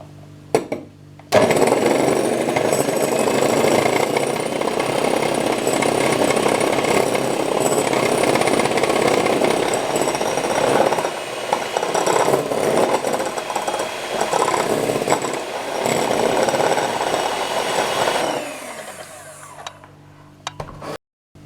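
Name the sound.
whisking sugar into chocolate muffin mix batter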